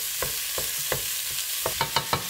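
Minced meat browning in a pan for spaghetti bolognese, a low sizzle beneath a series of about eight distinct stirring scrapes and taps, quickening toward the end.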